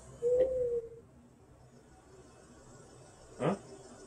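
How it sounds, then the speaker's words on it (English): An owl hoots in the video game Snow Runner: one soft, low, drawn-out call near the start, then a second short hoot a few seconds later, both faint over a quiet background. "Did you hear that, owl?"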